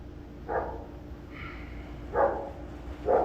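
Dog barking in short bursts, three or so separate barks spaced over a few seconds, moderately near, heard over a low steady background hum in a garage while a 1979 Corvette power steering valve is being worked on.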